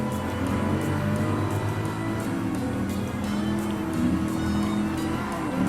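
A Dodge Viper GTS races in Gran Turismo Sport, its engine droning steadily at high revs with faint tire squeal, loud and continuous without voices.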